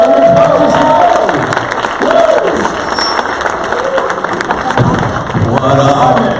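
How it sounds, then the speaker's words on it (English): A conference crowd claps and cheers as a speaker is brought on stage, a dense continuous roar of hands with shouts and voices mixed through it for several seconds. "Everybody, give him a round of applause."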